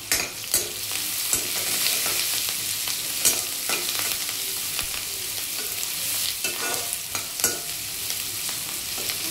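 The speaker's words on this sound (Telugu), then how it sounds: "ఆనియన్స్ కొద్దిగా కలర్ చేంజ్ అయ్యే వరకు ఫ్రై చేసుకొని" Chopped onions fry in oil with curry leaves, asafoetida and turmeric for a tempering, giving a steady, close sizzle broken by regular scraping clicks of a spoon stirring the pan, with no voices.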